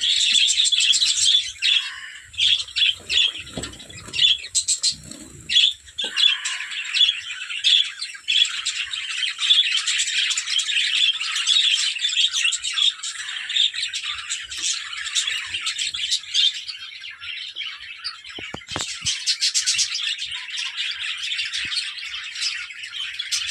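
Finches in an indoor bird room chirp and tweet almost without pause: a busy, close chorus of high, rapid calls from many birds, running on continuously with no talking.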